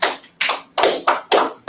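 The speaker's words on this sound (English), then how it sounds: "Clap it up for the officer right there." An audience claps for an officer in five quick, sharp bursts of applause, each rising and fading before the next, close and fairly loud, with no talking.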